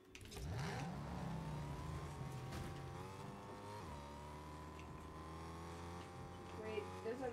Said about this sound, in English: I'm gonna drive to go and get it.